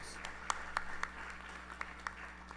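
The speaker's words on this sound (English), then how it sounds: "So please give her a round of applause." Sparse, faint clapping from a small audience at a Krishna temple anniversary service, a handful of separate claps spaced irregularly over a steady low hum.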